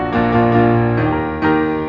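A major five chord drawn from the harmonic minor scale sounds out on a keyboard instrument, struck twice and left ringing, close and fairly loud, with no voices.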